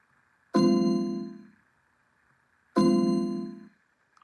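Two synthesized one-note bell-like tones built from a constructed waveform, each striking sharply and ringing with bright overtones before fading, separated by a short silence.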